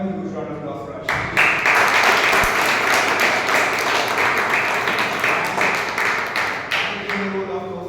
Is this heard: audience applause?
yes